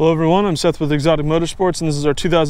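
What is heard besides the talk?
No distinct noise like a dog, phone or traffic.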